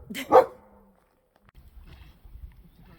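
A single sharp dog bark up close by a lake, followed by quiet and then low rumbling, splashy background noise.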